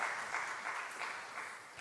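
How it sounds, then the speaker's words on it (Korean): Applause from a church congregation at a Friday prayer service, a steady wash of clapping that rises and falls slightly over a couple of seconds. "한 번 더 위로의 박수, 하나님께 영광의 박수 올려드리겠습니다"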